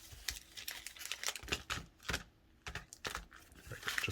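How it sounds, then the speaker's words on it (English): Magic: The Gathering cards from a Crimson Vow bundle being shuffled by hand, a run of quick crisp riffling bursts and snaps close up, separated by brief pauses. "let's do a nice little shuffle"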